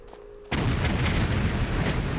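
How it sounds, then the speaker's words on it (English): A single deep boom erupts in the Tomb Raider Level Editor jungle ruins level, a loud sudden blast after near-quiet that then rumbles on steadily to the end. "we do have some explosions just there, but they do not do any damage"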